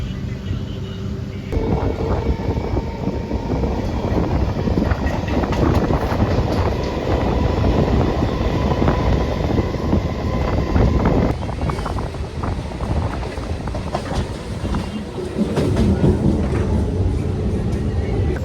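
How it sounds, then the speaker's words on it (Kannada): A train on the Bangalore to Tirupati route runs with a steady, loud rumble and wind buffeting, its rolling noise easing as it slows down, with no talk over it. "ಟ್ರೈನ್ ಮತ್ತೆ ನಿಲ್ಲಿಸ್ಬಿಟ್ಟ, ಸ್ಲೋ ಮಾಡ್ದ."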